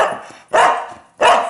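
A dog barks twice in close succession, loud and near, each bark a sharp burst with a short gap between, heard alone in an outdoor dog lottery draw.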